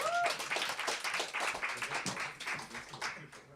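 Audience applause for a poet at a reading, a dense, steady patter of clapping hands that is fairly close and sustained for a few seconds before gradually thinning.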